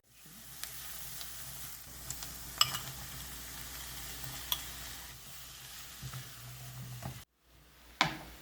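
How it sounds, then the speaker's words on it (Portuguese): Ground beef for kibbeh sautés in a pan with a soft, steady sizzle and scattered faint ticks and clinks, heard alone and fairly quiet. "A nossa carne já está completamente refogada."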